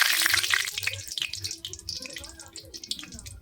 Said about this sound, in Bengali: এই দেখুন এক পিঠ ভাজা হচ্ছে